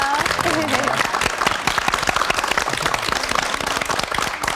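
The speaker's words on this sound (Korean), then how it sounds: "우리 두 분께 큰 박수 한번 부탁드리겠습니다." Dense, steady applause from a studio audience for a married couple, an immigrant wife and her Korean husband in Chuncheon, sounding loud and continuous throughout, with a voice briefly speaking at the start.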